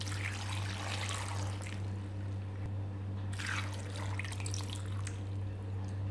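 Water poured into a cooking pot while making a Chettinad raw jackfruit and green peas kurma, a steady splashing pour over a constant low hum, with a brief break midway before it resumes.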